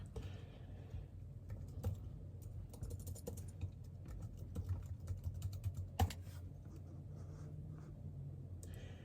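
Administrator password being typed on a computer keyboard while setting up Windows Server 2019: steady, soft, close key clicks over a low background hum, with a few sharper taps.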